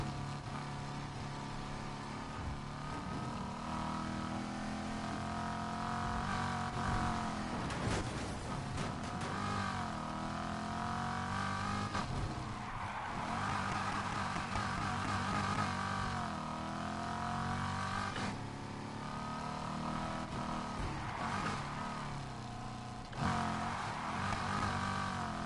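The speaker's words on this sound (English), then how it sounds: "This car is very good at drifting, which is crazy." A Buick Grand National engine in Need for Speed Heat, droning and revving with swooping pitch changes as the car drifts, steady and fairly loud throughout with repeated rises and falls.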